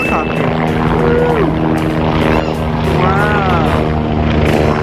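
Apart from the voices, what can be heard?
helicopter flying overhead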